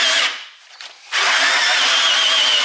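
A power drill whines loudly up close, pauses briefly, then bites back in with a steady high-pitched grinding whir as it drills holes in metal cans.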